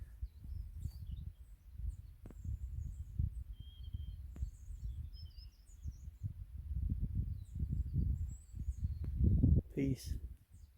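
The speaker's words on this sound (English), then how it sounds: "The only noise is bird song" Faint, scattered bird chirps high in the background over a steady low rumble and soft rustling outdoors.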